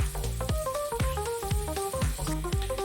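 Onion frying in butter and oil for pav bhaji, a loud continuous sizzle broken by repeated metallic stirring clanks in a loose rhythm, heard up close with no talking.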